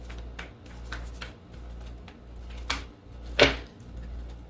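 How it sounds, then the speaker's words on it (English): Oracle cards being shuffled by hand indoors, a few soft papery riffles and flicks spaced across a quiet background, with one sharper, louder card snap near the end. "I shuffle these cards"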